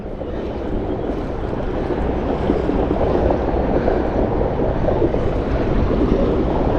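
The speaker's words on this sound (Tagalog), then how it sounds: "Dahil medyo mahangin." Steady wind roars and buffets the microphone in a continuous broadband rush, fairly loud throughout, with a faint watery wash underneath.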